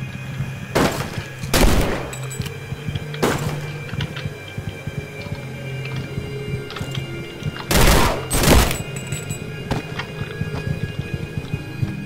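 Gunfire in the video game Leaden Sky: sharp, loud shots in scattered single bursts and quick pairs over a steady background hum, with quiet gaps between volleys.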